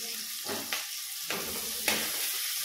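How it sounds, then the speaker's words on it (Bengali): Chopped onion frying in hot oil in a pan for a prawn and cabbage ghonto, a steady close sizzle with a few louder surges as it is stirred, no voices. "এবার এটাকে একটু ভাজা ভাজা করে নিই পেঁয়াজটাকে।"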